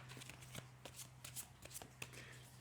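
Tarot cards are shuffled in quick riffling bursts, soft and close, with a faint steady hum underneath and no talking.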